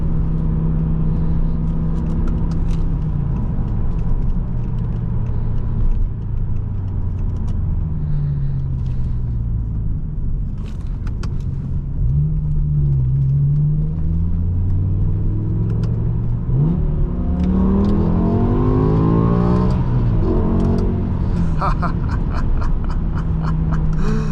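A 2007 BMW M6 with its V10 engine downshifts with blipped revs and then accelerates hard, a loud, close, continuous engine note rising and falling in pitch through repeated gear changes from inside the car.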